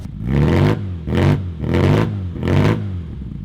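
A Classic Mini with a 1380cc engine revs in four even bursts, each rising quickly and then dropping back. The engine is close and loud, with a clattery mid-range drone.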